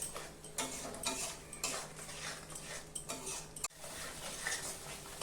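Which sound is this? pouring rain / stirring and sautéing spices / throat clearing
stirring and sautéing spices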